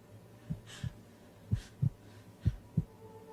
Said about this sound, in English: It's almost like a heartbeat.